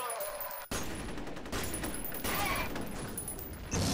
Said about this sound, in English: I don't see shotguns, but I hear them